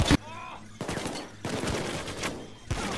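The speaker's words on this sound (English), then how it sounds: "we're damaging the art by shooting it" Automatic gunfire in the video game Payday 2, with repeated bursts of rapid shots one after another, loud and close, alongside other game noise.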